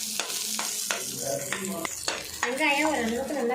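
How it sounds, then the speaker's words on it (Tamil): Three large onions fry in oil with cloves, cardamom and cinnamon, a soft sizzle punctuated by sharp clinks of a spoon stirring against the pan, growing a little louder near the end. "மூணு பெரிய வெங்காயம் லேட்டாக ஃப்ரை பண்ணிடுவோம்"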